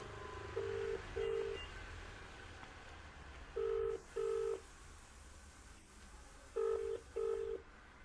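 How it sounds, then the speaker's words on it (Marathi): Telephone keypad dialing: three pairs of short DTMF tone beeps at steady intervals, clear and moderately loud over a low room hum, with no talking. "तर तुमच्या समोर आपण त्यांना फोन लावतोय."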